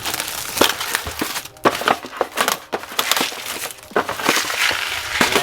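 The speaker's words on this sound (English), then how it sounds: "Go ahead and open this up." A plastic Daikoku yakisoba instant noodle package is torn open and handled up close, a burst of sharp irregular crinkles and rips with brief pauses between.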